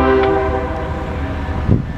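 Norfolk Southern northbound mixed freight train passing in Marion, Ohio, with a sustained horn tone over steady rail rumble and a brief louder swell near the end.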